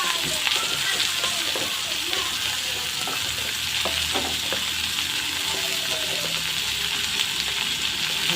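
Curry leaves, coriander and shredded cabbage sauté in a pan, giving a steady, loud frying sizzle with occasional stirring scrapes and clicks throughout.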